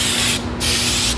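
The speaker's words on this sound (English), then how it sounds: "what we're going to do is spray this back side of the insulation" Spray adhesive hisses onto the back side of an insulation panel in two close, loud bursts separated by a short pause, laid down as a directional fan pattern during a floor soundproofing kit installation.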